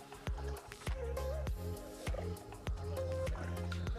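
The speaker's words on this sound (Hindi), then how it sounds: "पानी पूल में जा रहा है" Water drips and splashes into a swimming pool in Dehradun, with a sharp plop coming roughly every half second and a wet, squishy splash after each one, heard up close.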